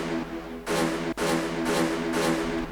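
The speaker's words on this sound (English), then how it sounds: "The horn is getting faster" A synthesized horn in an electronic dance track build-up plays sustained, harmonically rich blasts that repeat in quicker pulses, loud and full, with one brief cut-out in the middle.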